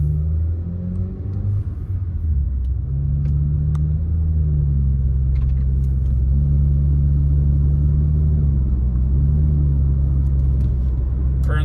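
A 2015 Kia Optima with 122k miles, a muffler delete and a cold air intake cruises gently in eco mode, giving a loud, steady, deep exhaust drone that swells slightly as it moves through normal driving.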